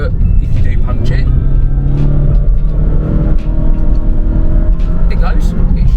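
A JDM import family car accelerating hard from inside, its engine droning and rising in a loud, steady rumble with gear changes, while someone talks over it.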